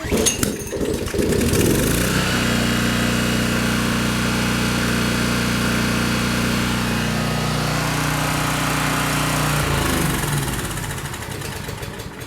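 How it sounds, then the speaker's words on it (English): A Generac Briggs & Stratton 4000XL portable generator, trash-picked, running loud and close with a steady droning engine hum that settles after a rough start and then begins to drop off near the end. "This generator has a control that will let it idle down when it's not under any load."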